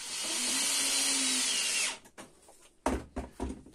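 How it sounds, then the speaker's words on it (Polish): A power drill bores a hole for a cup hinge, giving a loud, steady whine that lasts about two seconds and then stops, followed by a few short knocks and clatters of handling. "jeżeli za daleko nawiercimy ten otwór"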